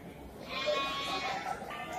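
A pregnant Brebes-bred ewe bleats at a livestock market, one drawn-out wavering bleat rising in the middle, moderately close over a murmur of crowd noise.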